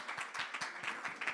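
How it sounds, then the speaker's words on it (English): A church congregation claps after a Sunday creative service, with rapid, fairly even hand claps from a modest group in a steady patter that stays quiet and unbroken by talk. "So give everyone a round of applause for taking part."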